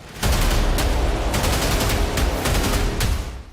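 Diwali firecrackers bursting in a rapid, dense chain of loud cracks and pops, with steady crackling and a few louder bangs standing out, close and continuous for several seconds.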